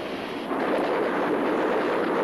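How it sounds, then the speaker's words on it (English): A MiG-21's twin 23mm internal cannon fires at ground targets as a continuous, dense, roaring burst of rapid fire, loud and unbroken with no voices. "Pilots are instructed in how to attack ground targets with unguided rockets and also with the twin 23mm internal cannon."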